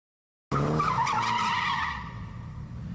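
Loud tyre squeal from a skidding, drifting radio-controlled car on a touge drift track surrounded by concrete walls, a long screech with engine roar beneath it that eases off toward the end.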